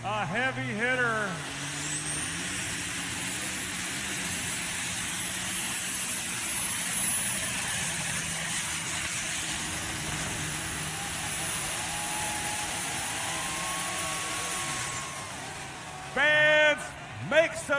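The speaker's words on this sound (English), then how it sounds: "Here comes Kurt Paulson, your number 2 tractor in points." A loud pulling-tractor engine roars steadily for a long stretch during a tractor pull, droning and rising like a heavy machine straining, with bursts of crowd or announcer noise at the start and end.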